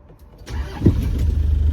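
A manual-transmission car's engine rises in revs during a driving lesson on a steep hill, starting quietly and swelling into a close, steady rumble with a brief louder surge partway through.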